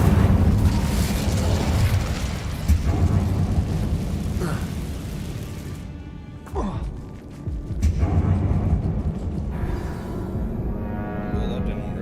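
A fiery Incendio spell detonates in Hogwarts Legacy inside a closed, tomb-like mine, a loud rumbling burst with dense low roar that briefly drops away, then flares again with crackling debris.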